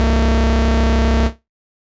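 A thick, buzzy synth bass pad with layered oscillators and rich overtones, held loud and steady before cutting off abruptly.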